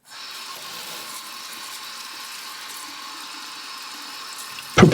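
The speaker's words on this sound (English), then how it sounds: "You just wash your tomatoes thoroughly to get any garden dirt off, give them a good rinse" Water runs steadily from a tap over garden tomatoes being washed and rinsed in a sink, a continuous close hiss of flow with a brief louder splash at the very end; no one speaks.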